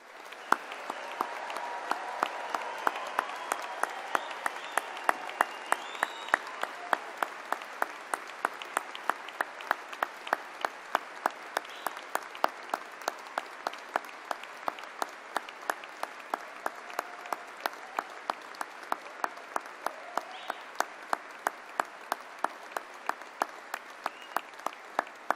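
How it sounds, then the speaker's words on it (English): A graduation ceremony audience applauds award and prize recipients, dense sustained clapping from a large hall that carries on for the whole stretch, with one or two louder claps standing out near the microphone and no talking. "final round of applause."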